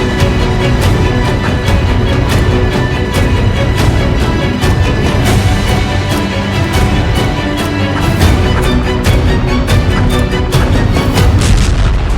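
Bomb and missile blasts in war footage, a dense continuous barrage of booms and artillery-like bursts, loud throughout with no pauses and no voices.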